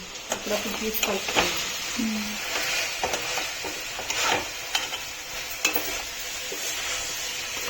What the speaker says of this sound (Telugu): ఒకసారి కలుపుకుంటే అడుగంటకుండా ఉంటుంది